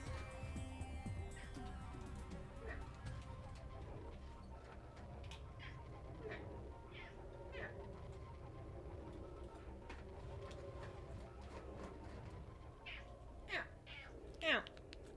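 A house cat meows for treats, faint and intermittent, with soft repeated cries over a steady low background hum and a louder meow near the end.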